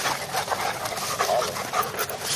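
A pit bull puppy panting close by, a steady quick run of breathy huffs over a few seconds, with faint whimpering tones mixed in.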